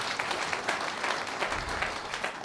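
Audience at a network marketing seminar in India clapping for a speaker, a brief burst of dense, even applause from a room full of people.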